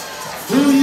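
Crowd at a professional kickboxing bout breaks into cheering and a rising shout near the end, loud and close over a general arena murmur.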